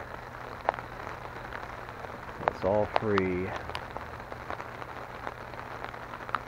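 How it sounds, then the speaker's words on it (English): Steady rain patters onto tarps set up to collect rainwater, a soft continuous hiss with scattered drop clicks, while someone speaks briefly over it. "Looks like we're getting pretty good rain now."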